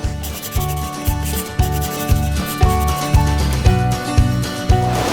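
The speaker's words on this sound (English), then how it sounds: "The system behind me is the fat coating system, where we coat the product in a nice, tasty, palatable layer of fat." Fat coating machinery in a pet food pellet production line gives a loud, nearby, regular thumping cycle about twice a second, with humming tones and rubbing texture layered over it.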